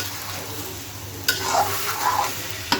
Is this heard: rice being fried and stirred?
yes